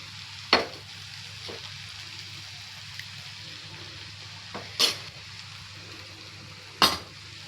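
Gongura leaves fry in oil in a kadai, sticking to the bottom, with a steady low sizzle beneath three sharp, scraping stirs of a spatula spaced a couple of seconds apart.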